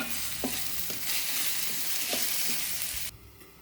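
Sliced onion and long-cut green chillies sizzle steadily in a pan for an avarekalu chitranna, with a few soft stirring scrapes, before the frying noise cuts off near the end.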